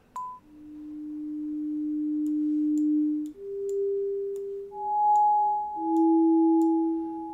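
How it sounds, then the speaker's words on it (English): Pure sine-wave tones from a modular synth step between a few random sustained pitches, each note held for a couple of seconds, with faint ticks and a soft reverberant tail. "So you can just hear random notes, and I'm feeding it through some reverb there."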